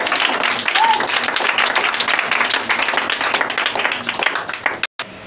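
A church congregation claps and cheers continuously in a dense, steady burst of applause with voices mixed in, cut off abruptly near the end.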